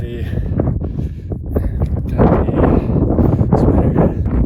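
Cold wind gusting across a mountain trail on a hike to the Spathi summit in Crete, a steady rough rumble buffeting the microphone and growing stronger toward the end.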